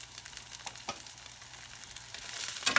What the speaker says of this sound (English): I gotta remember to stir this or it's gonna burn